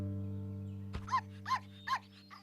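Puppy in a Franček cartoon barking three times in quick succession, then giving a softer fourth yip, bright and clear over a steady low hum, with no talk during the barks.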